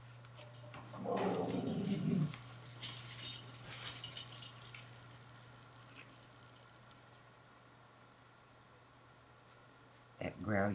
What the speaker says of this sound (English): growl you heard, that is my son's dog, Copper.